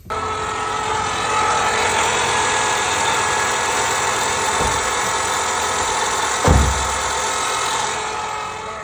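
A race car's SBE 6.0 engine runs steadily at the track with a rough, surging idle, a constant mid-pitched drone broken by two short low thumps near the end.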